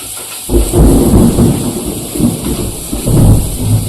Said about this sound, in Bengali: বাইরে খুব মেঘ করেছে বৃষ্টি আসছে